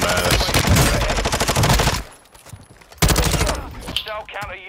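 Rapid automatic gunfire in a shooter video game, loud sustained bursts broken by a short pause, then another burst that trails off.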